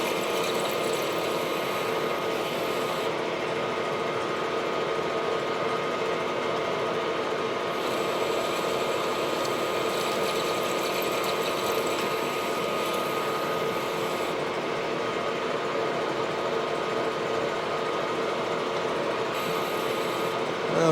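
A lathe boring a back plate hub, a steady machine hum with a constant hiss of cutting running evenly throughout at moderate loudness, no talking.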